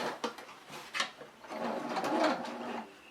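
A sewing machine stitches fabric for a rice pot bonnet, working slowly along a curved line, with a few quick clattering bursts and then a longer whirring run, close and fairly quiet.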